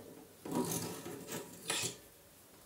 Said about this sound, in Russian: Я буду откручивать обычным разводным. Здесь мы держим кассету, а тут мы крутим